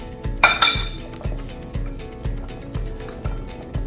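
Carrots being mixed in a pan for roasting, a utensil knocking and clinking against the pan in a steady rhythm of about two taps per second, one sharper metallic clatter near the start.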